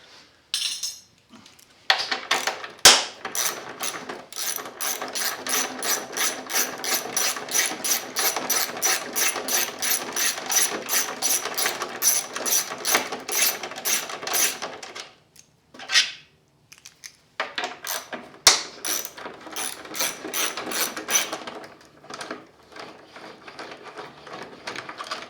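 A ratchet clicks in long rapid bursts while loosening the headlight bolts on a Honda Goldwing GL1500 motorcycle, close and crisp, with a short pause midway before the clicking resumes.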